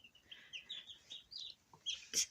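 A newly hatched black chick, still damp at the end of incubation, gives a series of faint, high, thin peeps with short gaps, ending in a louder burst.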